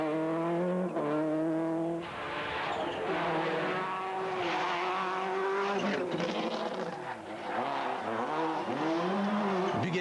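A Subaru rally car racing at the 1999 Rallye du Rouergue, its engine loud and close with rising and falling revs, gear changes and brief tire noise across the whole stretch.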